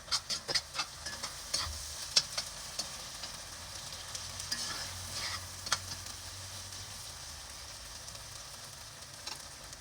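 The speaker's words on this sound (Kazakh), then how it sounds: "Бір чай қасықта мята қосып, араластырып, 2-3 минут қуырамыз." Mint fries in a pan for lentil soup while a spoon stirs it, with a run of sharp scrapes and taps at first, then a steady sizzle and occasional clinks, close and clear, with no talking.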